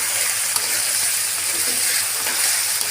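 Finely sliced potatoes and onion frying in oil in a home kitchen, a loud continuous hiss and sizzle that stays steady throughout with faint clinks of stirring.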